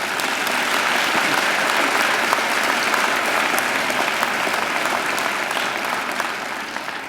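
Steady, sustained applause from a graduation ceremony audience fills the hall, dense and even throughout before tapering slightly at the end.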